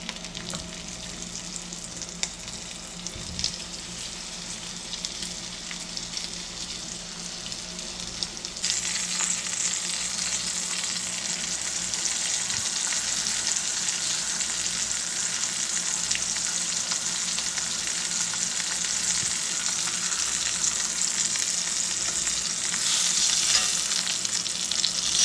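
Cubed pork cutlets fry in a cast iron skillet with a steady, dense sizzle that grows louder and brighter partway through and stays continuous to the end. Occasional faint stirring scrapes sit underneath, and no one speaks.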